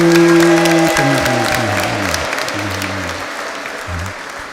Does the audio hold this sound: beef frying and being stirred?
no